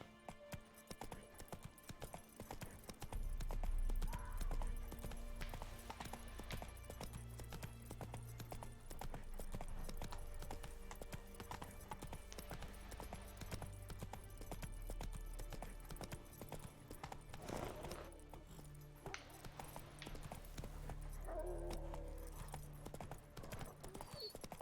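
Roach, a horse in The Witcher 3: Wild Hunt, gallops in a steady, rhythmic clip-clop of hooves that continues throughout over low game ambience and music.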